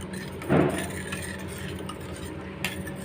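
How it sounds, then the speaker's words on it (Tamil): A spoon scrapes and swirls through rasam in a pot, one louder stroke followed by quieter stirring, close by. "நல்லா கலக்கி விட்டுக்கோங்க."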